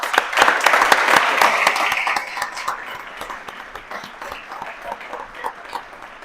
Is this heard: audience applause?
yes